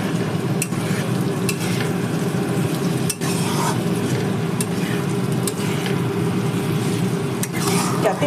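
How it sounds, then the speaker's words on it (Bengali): Grated ginger sizzles steadily in hot oil for a home fish curry, with a spoon or spatula scraping and clinking against the pan at intervals, close and continuous. "যাতে একটু আদাটাও ভাজা ভাজা হয়ে যায়"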